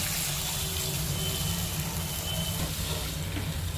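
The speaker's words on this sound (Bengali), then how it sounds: "এখন মা দিয়ে দেবে পরিমাণ মতো জল" Water pours into a cooking pan where pabda fish are cooking with turmeric for a mustard curry, making a steady rushing, sizzling wash that stays even and fairly loud from start to finish.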